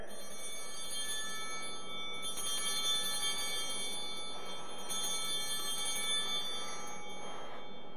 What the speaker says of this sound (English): when I do that, the bells ring again